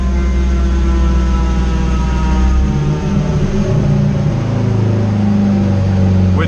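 A turbocharged Acura RSX engine roars loud and close on a dyno, holding a heavy drone and then climbing in pitch partway through as it revs harder, with no talk.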